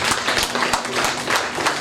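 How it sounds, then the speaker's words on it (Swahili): A church congregation clapping for the Lord Jesus, with dense, loud, continuous applause from many hands filling the short moment. "Pigie Bwana Yesu makofi."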